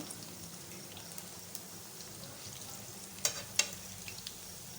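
Vegetable pakoras fry in oil with a continuous soft sizzle and bubbling. Two sharper clacks near the end come from the batter fritters being turned, with no voices present.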